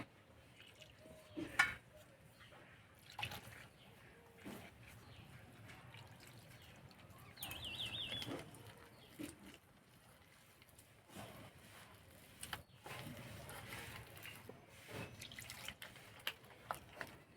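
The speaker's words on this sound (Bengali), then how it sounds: "এবার অল্প অল্প জল দিয়ে গুলে নেব" Water trickles and drips in small additions into gram flour batter being mixed, soft irregular splashes and faint stirring close by, with no talk.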